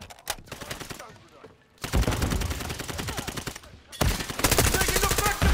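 Rapid bursts of automatic gunfire from Call of Duty, loud and dense, with a brief lull near the middle before the firing resumes even heavier, and a voice faintly underneath.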